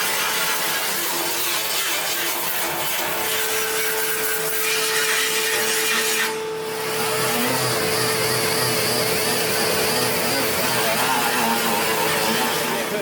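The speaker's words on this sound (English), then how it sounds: "You're actually vacuuming up the wing of the car." A vacuum cleaner sucks metal debris off the wing of an AE86 car being finished in a workshop, giving a loud, steady, close-up roar that dips for a moment partway through and then carries on.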